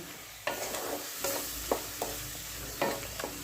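Cauliflower cooking in poppy seed paste sizzles softly in a pan while a spoon stirs it, with several distinct scraping strokes over a steady low fry.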